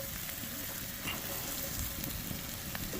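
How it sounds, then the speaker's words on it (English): Onions frying in butter in a pan over a campfire outdoors by a lake, a soft steady low-heat sizzle with faint crackles, fairly quiet and unbroken. "I want it to cook slow and low so the onions caramelize rather than burn"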